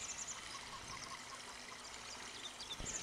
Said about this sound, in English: And you can see the water filling up in the bucket.